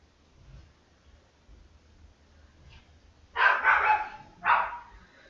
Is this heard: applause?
no